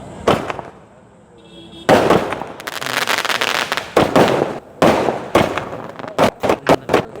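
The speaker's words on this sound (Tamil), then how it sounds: "நாங்கள் ஒன்று ஒன்றையும் வெடித்து காட்டுறோம் பாருங்கள்" Sivakasi firecrackers and fireworks set off outdoors in a loud burst of sharp cracks, a short pause, then dense crackling volleys and a run of separate bangs close by.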